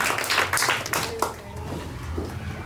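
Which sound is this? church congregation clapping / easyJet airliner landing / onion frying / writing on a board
church congregation clapping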